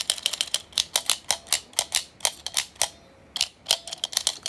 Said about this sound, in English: So it's a nice clicker.